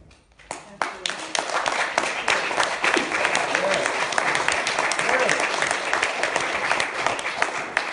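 An audience at an anniversary event breaks into applause, starting with a few scattered claps and swelling into steady, fairly loud clapping that continues throughout.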